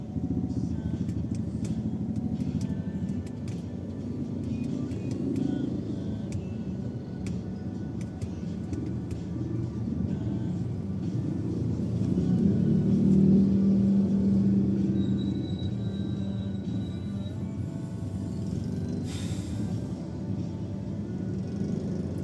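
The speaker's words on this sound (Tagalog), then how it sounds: "Lagi na lang traffic." Road traffic in San Isidro, Cabanatuan City, Nueva Ecija, with cars and motorcycles rumbling and idling nearby in a steady, continuous drone, engines swelling midway and occasional clatter.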